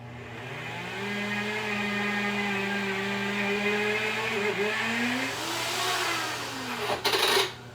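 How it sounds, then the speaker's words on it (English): A kitchen blender whirs steadily at full speed, processing keto chili ingredients, a loud continuous motor drone with slight pitch shifts as the load changes, ending in a brief burst of harsher noise. "So let me blend this up."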